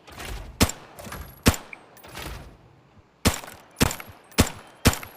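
Single-shot M16 rifle fire in the video game Arena Breakout snaps out as eight separate sharp, close reports spaced unevenly, each followed by a brief decaying tail in an otherwise quiet background.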